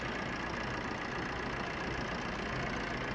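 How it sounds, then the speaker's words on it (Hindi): A used car's engine idles after starting, a steady, even mechanical drone close by that stays constant throughout, with no talking. "इसके इंजन को चेक करने के लिए आपने सबसे पहले इसका इंजन स्टार्ट कर लेना है।"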